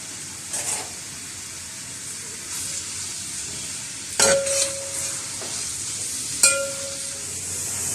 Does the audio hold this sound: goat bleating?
no